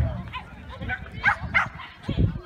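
A dog at an outdoor agility competition gives a few quick barks and yips amid a busy crowd, with people talking nearby.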